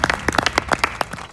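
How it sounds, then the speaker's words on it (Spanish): A small audience claps at a Uruguayan political debate show, a sparse scatter of distinct individual hand claps rather than a dense roar, close and fairly loud, fading within about a second. "para quien pido un fuerte y sostenido aplauso"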